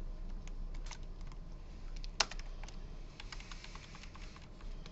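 Steady, faint clicking of a computer keyboard during a recorded C++ programming lecture, with keystrokes pattering continuously over low room hiss and one sharper tap partway through.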